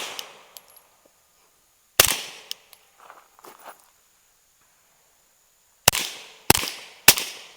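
A suppressed rifle fires at an outdoor range with sharp, cracking reports: one shot, then a pause, then three more in quick succession. Faint handling clicks and rattles fill the gaps.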